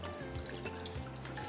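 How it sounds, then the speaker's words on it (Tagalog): Water is poured into a cooking pot or pan while squid is being prepared, giving a short, continuous splashing trickle close to the listener. "Maglagay ng tubig."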